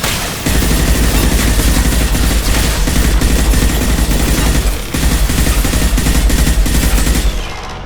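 Sustained automatic turret gunfire in the video game Mass Effect, loud and dense, with rapid continuous bursts that pause briefly near the middle before hammering on again, then cutting off at the end.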